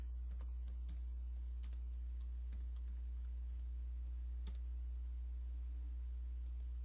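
Irregular clicks from a computer keyboard being typed on, with scattered keystrokes and a few louder taps over a steady low electrical hum, quiet and close without speech.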